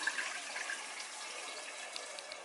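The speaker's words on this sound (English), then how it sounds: "just lift the bucket and just pour it through slowly" Homemade strawberry and watermelon wine pours slowly from a lifted bucket in a steady, close liquid stream, a continuous soft splashing rush with no talking.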